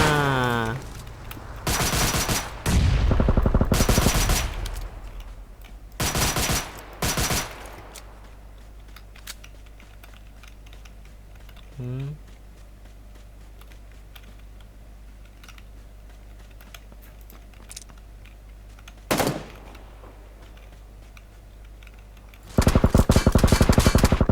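Gunfire in the battle-royale video game PUBG Lite, heard as several loud bursts of shots in the first seconds and a long sustained burst at the end, with an isolated shot in between over a quiet background.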